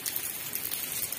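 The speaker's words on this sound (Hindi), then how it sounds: "तो ये देखिए बाहर लगी है बहुत तेज बारिश" Heavy rain pours down outside in a steady, dense hiss of drops that continues without pause, with no voices.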